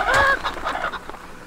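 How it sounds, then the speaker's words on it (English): A chicken in the video game Fable squawks loudly when kicked, then gives a few quick fading clucks, close and alone. "Oh, yes, you kicked that chicken real good."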